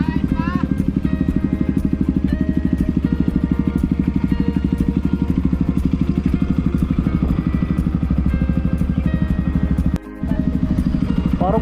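Honda Click motor scooter riding along a forest road in Batangas, a continuous close engine drone with rapid rhythmic pulsing and rattly clatter, briefly dipping near the end.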